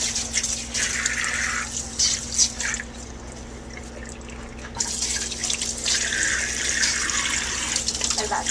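Tap water running into a sink while a face is rinsed, a steady close splashing hiss that dips briefly in the middle as hands move through the stream, then resumes at full flow.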